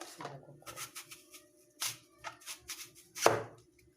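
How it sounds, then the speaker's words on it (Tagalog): Knife chopping through peeled fruit for a vegetable-meal dessert on a cutting board, a run of crisp irregular cuts, several quick strokes then a few sharper louder chops, close and alone. "balatan ko muna itong aking panghinagas guys. Hiwain ko muna."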